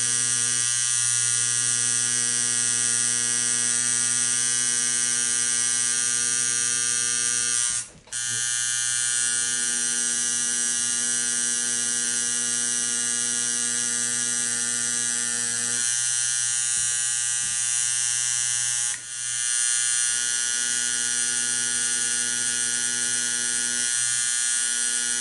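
Tattoo machine buzzing steadily while tattooing a practice rose with round liner needles, a continuous close electric hum with two brief pauses.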